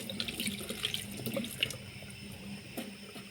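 Tap water runs into a kitchen sink as vegetables are rinsed while preparing spaghetti, a steady soft splashing with faint clinks, fairly quiet and close, with no talk.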